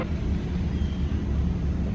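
Turbocharged Honda S2000 motor running steadily, a deep continuous low rumble that holds even and moderately loud for the whole stretch, with no talking over it.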